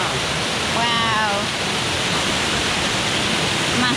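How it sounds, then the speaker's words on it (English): A massive waterfall in the Yorkshire Dales pours into a pool with a steady, loud, unbroken roar, close by, with a faint brief whistle-like tone over the rushing water. "Massive waterfall."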